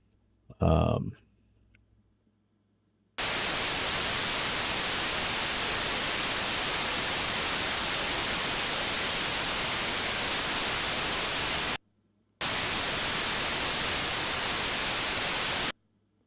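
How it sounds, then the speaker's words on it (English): Steady broadband white noise hisses loudly for several seconds, breaks off briefly, then resumes, following a short burst of something at the start. "So now we got white noise, which is random as all get out."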